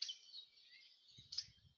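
A bird gives thin, high, sharp call notes, a drawn-out note followed by a brighter sip, with faint low thumps underneath.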